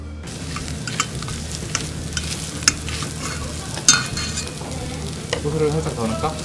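Fried rice being stirred in a tteokbokki pan at a Korean all-you-can-eat tteokbokki restaurant, with continuous close, loud sizzling and frying broken by sharp scrapes of the utensil against the pan.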